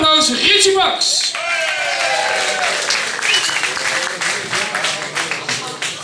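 A crowd applauds at a carnival song contest prize-giving, steady clapping over most of the clip with shouts and a voice on the mic at the start, tapering into scattered claps.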